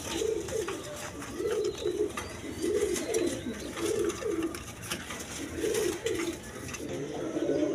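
Pigeons of a red Rajgolla breed coo nearby in repeated low, throaty bursts, several soft rolling calls spaced evenly over a faint background hiss, with no talking.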